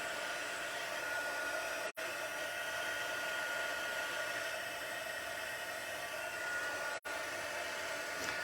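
A heat embossing tool blows steadily across the back of a stamped card with gold embossing powder, a loud continuous whooshing roar that cuts out twice for a moment and resumes.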